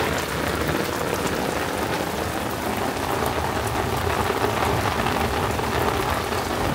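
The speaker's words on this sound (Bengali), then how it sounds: "সিজনের প্রথম বড় বৃষ্টি" A first big seasonal downpour falls hard and continuously, a loud, even roar of raindrops drumming on surfaces close by, with no talking.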